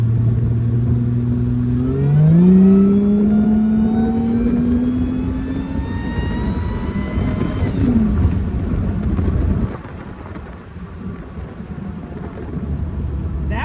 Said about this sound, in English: That was basically like a 3rd gear pull, not downshifting, not nothing, just ran it all the way out